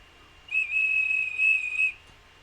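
A single steady blast from a 3D-printed emergency and sports whistle, about one and a half seconds of a clear, shrill, moderately loud tone blown close to the microphone.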